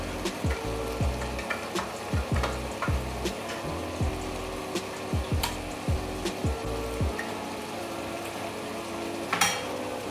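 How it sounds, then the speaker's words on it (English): Beef mince browning in a pan while being broken up, a steady sizzle under repeated scraping and knocking of a utensil against the pan in an uneven rhythm, close and moderately loud with no talking. "So the mince is all browned and broken up"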